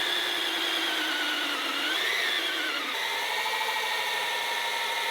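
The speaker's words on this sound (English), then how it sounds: "Our drill got that far through it because it's battery operated and 10 years old." A ten-year-old battery-operated drill grinds steadily through a workpiece, a loud, close whine that climbs in pitch, dips, then settles lower for the rest of the run with no voices.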